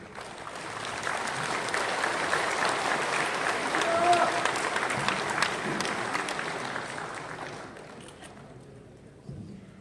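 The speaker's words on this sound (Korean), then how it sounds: "나오실 때 큰 박수로 환영해 주시면 고맙습니다" A church congregation applauds to welcome Pastor Kim Jong-won as he comes forward to preach, a steady crowd clapping that swells, holds for several seconds, then fades toward the end.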